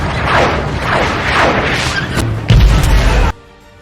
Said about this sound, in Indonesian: Namun sebuah ledakan yang dekat dengan Nelson berhasil membuatnya jatuh dan kehilangan kesadaran beberapa waktu sesaat.